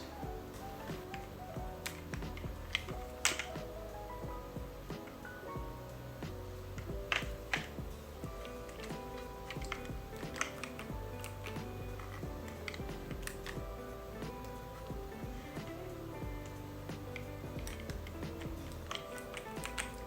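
Rapid clacky keystrokes from a FIRSTBLOOD B67 mechanical keyboard patter on continuously at moderate volume, with occasional louder key hits and a faint hum underneath.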